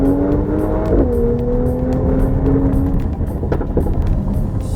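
Straight-six engine of a 2020 Mercedes-AMG GLE 53 Coupe, loud and close, rising in a rev then settling into a steady drone that carries through the whole stretch.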